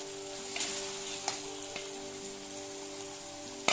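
Crushed garlic, curry leaves and green chillies sautéing in a pan, a dense continuous sizzle with a few sharp crackles and a pop at the end.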